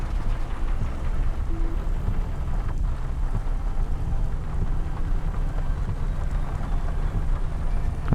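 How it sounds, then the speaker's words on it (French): Steady rain ambience in the neon city streets of the video game Cloudpunk, a continuous dense wash of falling rain with low rumbling undertones, even and unbroken throughout, with no talk. "c'est vraiment l'ambiance hein, avec la pluie."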